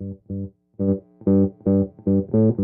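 Bass notes played through a Kemper profiling amp using a profiled bass preamp, about eight plucked notes in an uneven rhythm with rising intensity, heard alone and up close with no talking.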